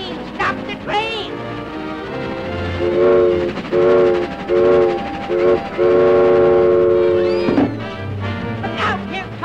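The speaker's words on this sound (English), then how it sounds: "Stop the train! Stop the train!" A cartoon train's horn sounds in several loud blasts, some short and one long, over rumbling rail noise while voices shout excitedly.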